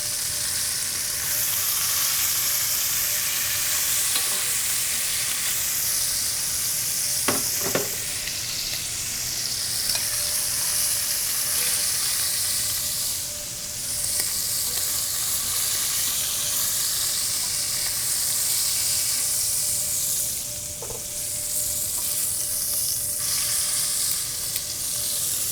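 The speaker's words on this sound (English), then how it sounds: "Creating a depth of flavor by browning off your meats." Short ribs brown in a hot pan with a loud, steady sizzle that lasts throughout, broken by a few brief clinks and scrapes of stirring.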